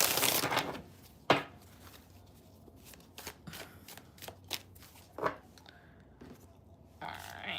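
Tarot cards are shuffled up close in several quick riffling bursts, separated by short quiet gaps.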